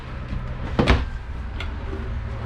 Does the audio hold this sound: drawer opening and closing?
yes